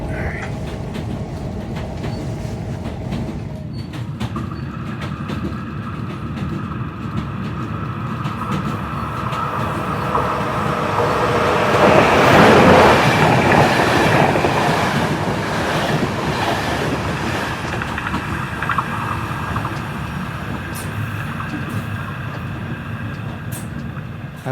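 A moving passenger train rumbles steadily along the rails on a long-distance trip, a loud continuous roar with wind noise that swells for a few seconds midway and then settles back.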